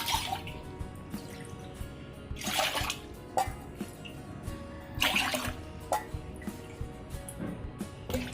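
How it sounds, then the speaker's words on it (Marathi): Water scooped with a small bowl and poured into a cooking pot while preparing jaggery sheera comes in several irregular splashing bursts, fairly quiet and close, with no talking. "या वाटीने आपण 4 वाट्या पाणी घेणार आहोत।"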